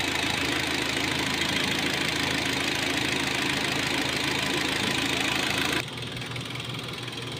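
A car engine with a suspected head gasket problem runs steadily with a dense, loud rumble and faint knocking, then drops abruptly to a quieter idle near the end.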